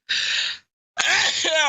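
A single close sneeze bursts out in a quiet studio setting, followed after a short pause by a second loud, breathy sneeze-like burst with a gasping tail.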